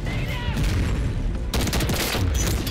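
Rapid gunfire from a Sidewinder weapon in a first-person shooter game, loud dense bursts of shots in quick succession with booming impacts, continuous and close throughout.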